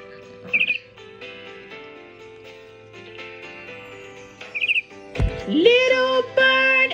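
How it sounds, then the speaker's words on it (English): A small bird sings in short, bright chirps and trills, separated by pauses, rising to a louder, fuller phrase toward the end against a quiet background. "Little bird, I have heard you sing so sweetly."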